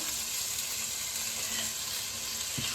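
Vermicelli chop suey fries in oil with a constant, even sizzle and light hiss, steady and close, with a small clink near the end.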